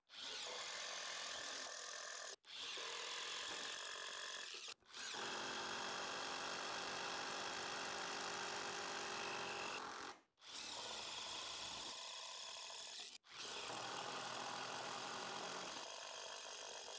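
A DeWalt DCF787 impact driver drives screws in loud sustained rattling bursts, about six runs of several seconds each separated by brief stops, close and alone.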